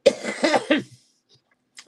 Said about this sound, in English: This cough only happens when I talk